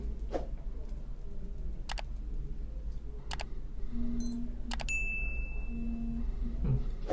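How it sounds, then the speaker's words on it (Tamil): A Casio G-Shock GBD-200 smartwatch sounds its call notification: a quick burst of bright electronic beeps followed by a sustained ringing tone. Scattered clicks and a steady low background hum surround it. "கால் நோட்டிஃபிகேஷன்."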